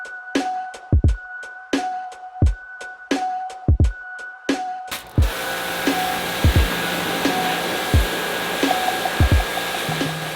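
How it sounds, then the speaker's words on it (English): A pressure washer blasts caked grease and grime off a Mitsubishi Evo 8 subframe. Sharp intermittent pump thumps come first, then at about five seconds a loud, steady hissing spray starts and continues under repeated thuds. "Gave her a good old pressure wash to knock down this inch of grease and dirt and grime"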